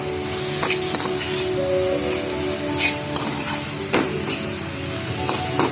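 Red amaranth greens fry in a pan while being stirred, giving a steady close sizzle broken by scraping stir strokes throughout.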